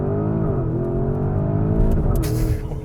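A 2024 Porsche Cayenne Turbo GT accelerates hard in boost mode after a launch, its engine note loud and close, climbing in a continuous rising roar with a brief shift dip partway through.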